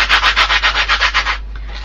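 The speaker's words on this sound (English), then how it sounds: "just rub the salt away" Dry salt rubbed off a sparkle-pen-coloured card onto kitchen paper, about ten quick rhythmic scratchy strokes up close, loud and gritty, then a softer trailing rub, with no voices.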